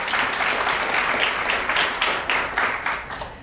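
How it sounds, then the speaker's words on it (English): A full audience gives a round of applause at an awards event, dense steady clapping throughout that thins slightly toward the end. "Let's give her a big round of applause and thank her for being here today."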